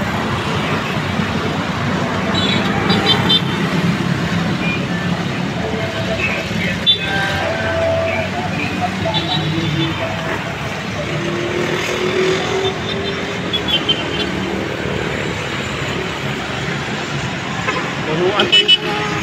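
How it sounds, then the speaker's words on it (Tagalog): A Davao Metro Shuttle Bus bound for Tagum City moves through busy city traffic, its engine rumbling amid steady road noise and occasional horn toots, with people talking over it throughout. "Ayan po mga idol, ang Davao Metro Shuttle Bus bound to Tagum City."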